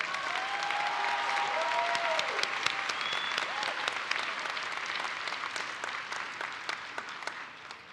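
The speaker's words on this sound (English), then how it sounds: "Let's give our families and friends a round of applause, too." Sustained applause from a large audience at a commencement ceremony, a dense patter of clapping that stays steady and then slowly thins toward the end.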